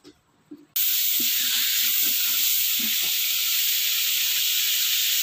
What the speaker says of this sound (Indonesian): pertama-tama kita panaskan margarin dengan sedikit minyak ya teman-teman